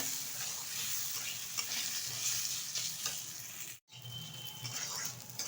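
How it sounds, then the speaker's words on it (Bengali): Gobindobhog rice fries and is stirred in a pan, producing a continuous close sizzle with soft scraping. A brief dropout near the end cuts it off before it resumes. No talk. "এই গোবিন্দভোগ চালটা ভেজে নিতে হবে।"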